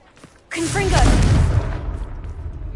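A Confringo fire spell exploding in Hogwarts Legacy: a sudden loud boom that swells into a rushing, crackling roar and slowly trails off, with a brief voice at the moment of the blast.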